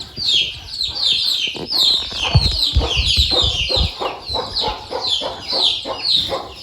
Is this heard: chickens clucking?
yes